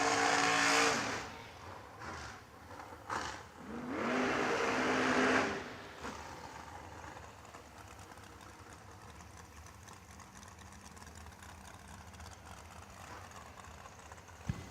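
Dragster race cars at a TB Promotions drag race, one with a Powerglide transmission: loud engine roar in bursts over the first five seconds, then a steady lower rumble of idling engines in the background.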